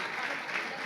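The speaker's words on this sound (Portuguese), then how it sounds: "Eu quero pedir um aplauso forte para os meus amigos aqui" Audience applause at a church youth camp gathering, a brief, steady burst of clapping from a crowd, fairly even in loudness throughout.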